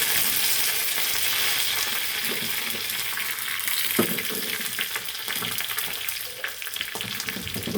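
Mustard seeds, two chilies and curry leaves crackle and sizzle steadily in hot oil for a beetroot pachadi tempering, a loud, continuous close fry with scattered pops and spits throughout.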